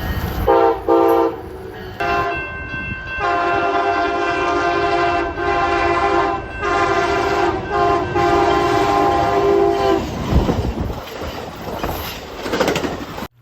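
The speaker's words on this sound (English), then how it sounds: "Their horns were a Nathan K5LA." Amtrak Surfliner Siemens SC44/ALC-42 locomotive sounds its Nathan K5LA horn in loud, sustained chord blasts over rumbling rail noise and clickety-clack, then the horn cuts off as the train rolls past.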